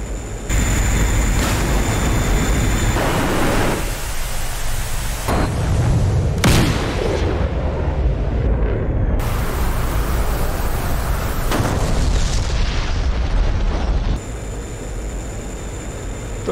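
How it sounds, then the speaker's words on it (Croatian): Air-to-air missiles launch from a MiG-21 in the DCS World flight simulator: a loud, sustained jet roar, broken by sudden shifts and bursts as each missile fires, with a sharp whoosh midway. "Spalili smo jednu, ispaljujemo drugu i manevriramo."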